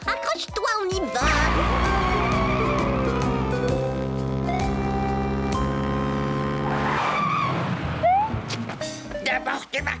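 A cartoon motorbike makes a loud, prolonged tire skid with a screeching squeal that rises and fades as it tears away, with a voice at the edges.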